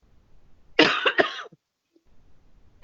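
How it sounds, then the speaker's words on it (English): A single harsh cough, close and loud, in a quiet room. "My cough is just not improving at all."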